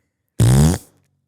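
A single loud, close fart noise, a buzzy low blast lasting under half a second that trails off quickly, alone with no talk.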